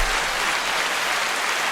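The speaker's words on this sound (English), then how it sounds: "I would love to applaud you." An audience applauding after a short stage segment, a dense continuous burst of clapping, steady and fairly loud throughout with no voices over it.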